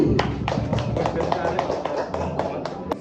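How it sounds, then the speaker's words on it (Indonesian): Teachers applauding at a primary school event, a steady, fairly quiet patter of claps lasting about three seconds with some voices mixed in. "Mari kita beri aplaus untuk Bu Tanti."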